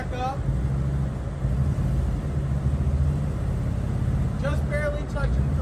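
A CFMOTO UTV idles low while reversing smoothly, a steady close engine drone with faint whistling tones near the start and end.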